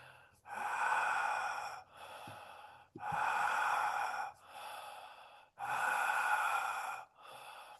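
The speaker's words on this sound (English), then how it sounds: "Keep on breathing like this." Slow, deep breaths during a guided breathing exercise, three long airy inhales and exhales in a steady rhythm, close and clear with brief pauses between them.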